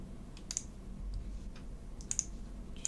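Computer mouse clicks while painting a sand texture in a digital paint program: a few light, sharp clicks scattered over a soft steady room hiss, quiet and close, with no talking.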